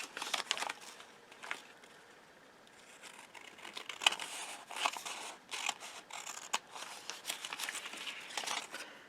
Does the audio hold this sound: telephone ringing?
no